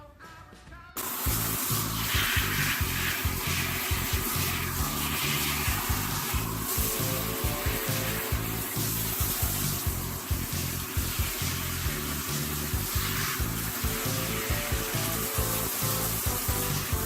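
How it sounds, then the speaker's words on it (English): Shampoo rinsed out of a synthetic wig under running water, a steady loud spray and splash after a quiet opening second, with rubbing and handling noises throughout and no speech. "I just rinsed till I didn't see any more of the sudsy bubbles"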